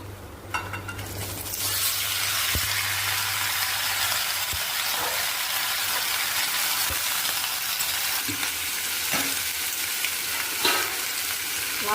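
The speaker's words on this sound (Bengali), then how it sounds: "লাউটা একটু ভাজা হোক" Pieces of bottle gourd frying in a pan, a dense, continuous sizzle close up with a few soft knocks of a spoon and faint clinks, otherwise steady throughout.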